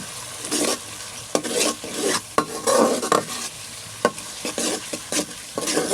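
Chopped green chilies tossed into a sizzling masala for an egg and onion curry, with repeated stirring scrapes and clinks of a spoon in the pan over a steady close frying sizzle.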